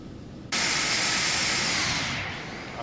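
A simulated Airbus A350 taxiing in X-Plane 12 gives a loud, sudden jet engine roar and hiss that starts abruptly, holds steady, then eases slightly near the end.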